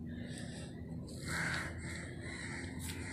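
Crows cawing at sunrise, a couple of rough caws over constant low ambient rumble, one call louder in the middle, with no voices present.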